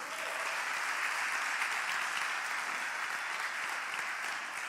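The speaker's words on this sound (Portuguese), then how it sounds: "Você pode dar um aplauso a Jesus?" Sustained, dense applause from a church congregation fills the space evenly, loud and continuous with no voices rising above it.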